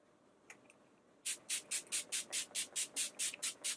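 A rapid series of about a dozen short, hissing bursts of makeup setting spray in an even rhythm, close by, after a couple of faint taps.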